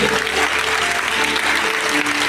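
An audience at a gospel singing performance breaks into sustained, dense clapping and cheering, loud and close, filling the whole moment without pause.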